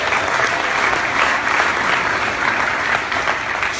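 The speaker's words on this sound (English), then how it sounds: "Take a round of applause." A large crowd at a digital marketing conference, the Traffic & Conversions Summit, breaks into loud, dense applause that holds steady throughout, with no voices over it.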